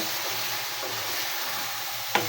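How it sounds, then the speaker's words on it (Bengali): Vegetables being stirred and sautéed in a pan for a Bengali silver carp curry, a soft steady sizzle with occasional scraping of the spoon and one sharp clink near the end. "আমার সবজি কষানো প্রায় শেষ"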